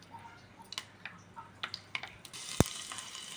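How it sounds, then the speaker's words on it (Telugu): Garlic cloves dropped into hot oil in a pan for Rayalaseema-style mango pickle: scattered small clicks, then a sharp hit as they land, followed by a steady, moderately loud sizzle. "తిరువాతలో ఫస్ట్ వెల్లుల్లిపాయలు వేసుకుందామండి"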